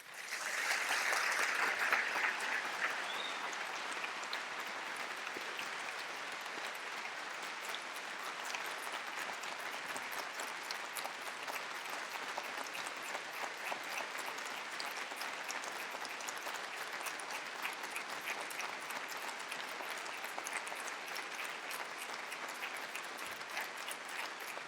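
A crowd applauds steadily at a university business school hooding ceremony, a soft, distant wash of clapping that holds for the whole stretch without voices.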